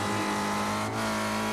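Spec Racer Ford race car engine held at full throttle, a loud, steady high-pitched drone with a constant tone and no voices, sustained throughout.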